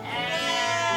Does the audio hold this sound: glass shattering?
no